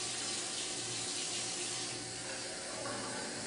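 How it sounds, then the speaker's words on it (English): Tap water runs from a faucet to fill a glass, a steady, even hiss of flowing water with no voices. "we're going to use our tap water"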